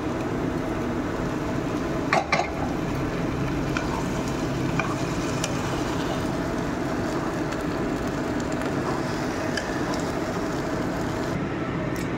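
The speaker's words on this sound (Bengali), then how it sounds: "দিয়ে এবার ভালো করে নাড়িয়ে নেবো আবার" Khichuri with cumin powder being stirred in a frying pan: a steady close sizzle runs throughout, with a sharp spatula scrape against the pan near the start and faint clinks here and there.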